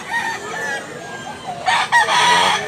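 A yellow-legged gamecock crows loudly nearby near the end, a harsh rising call after a quieter stretch of background clucking and faint noise.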